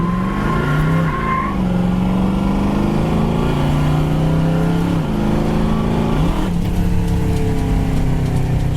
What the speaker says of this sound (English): This car just sounds mean.